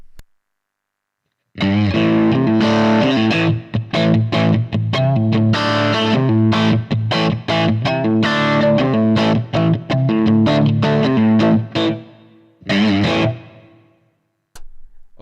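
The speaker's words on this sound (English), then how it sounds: "this is the sound of the rhythm part." Heavily distorted electric guitar through a Fractal FM3 chugging a driving rhythm riff with sharp stops, loud and close, ending in a few ringing chords before cutting out.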